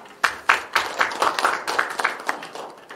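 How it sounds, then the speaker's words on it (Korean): A few advisory council members at a regular district council meeting in Mapo-gu, Seoul clap in a brisk, even rhythm, a sparse run of distinct claps that grows slightly softer and blurrier toward the end. "자문위원 여러분들의 박수 부탁드립니다"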